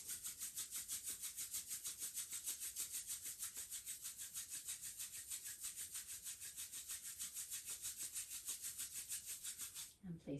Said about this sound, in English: bring your hands together and we'll start to rub them, waking up the nerve endings, warming your hands.